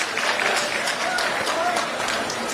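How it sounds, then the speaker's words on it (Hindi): Crowd at a political rally in Chhattisgarh bursting into loud, dense applause that stays steady and close for the whole short stretch. "एक बार जोरदार तालियां"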